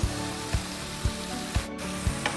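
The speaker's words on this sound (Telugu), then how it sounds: "దొండకాయలు ఇలా ఫ్రై అవ్వాలండి" Ivy gourd (dondakaya) slices fry with salt and turmeric over a medium flame, a continuous soft sizzle punctuated by regular stirring knocks about every half second, with no talking.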